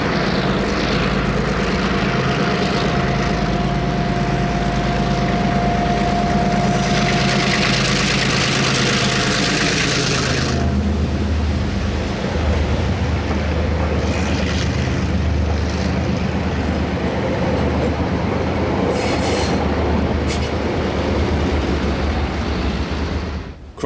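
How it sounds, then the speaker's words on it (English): Diesel locomotive DA 1431 hauls a train from the Waltham car yard with DA 1410 on the rear, its engine a loud, sustained rumble with a steady tone that shifts midway and continues heavy to the end. "DA 1431 hauls the Consus Longhead Leading from the Waltham car yard to the railway station with DA 1410 on the rear"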